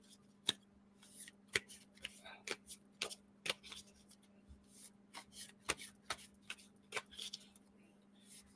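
Tarot cards being shuffled by hand, crisp riffling snaps and slaps in an irregular rhythm, close and quiet, with a low steady hum underneath.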